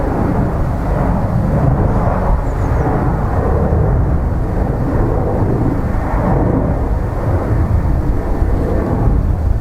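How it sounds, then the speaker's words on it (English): A Ryanair airliner arriving at Dublin Airport from Rome Fiumicino rumbles as a steady, loud, broad roar that holds evenly throughout with no voices. "Another Ryanair now from Rome,"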